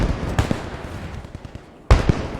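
MP40 submachine gun firing in a World War II video game match, two sharp loud bursts about a second and a half apart with softer crackling shots between them.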